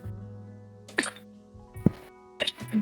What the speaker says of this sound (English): I just coughed out of nowhere